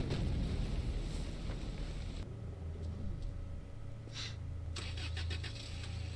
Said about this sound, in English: do you know how loud a car engine is?